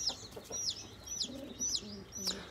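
High chirping peeps from several chicks chasing and pecking a rooster repeat throughout, with low clucking from the rooster underneath; moderately faint, no talking.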